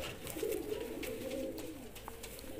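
Racing pigeons coo in a low, continuous murmur, a soft rolling warble that carries steadily through the moment at close range, with no voices over it.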